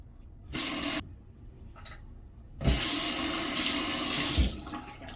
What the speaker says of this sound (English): Just wash my hand here.